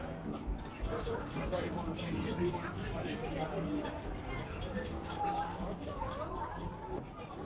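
Busy amusement arcade at Saltburn-by-the-Sea on the seaside, filled with a steady, dense babble of crowd chatter and voices throughout, moderately loud with no single speaker standing out.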